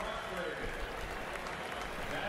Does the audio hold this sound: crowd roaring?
yes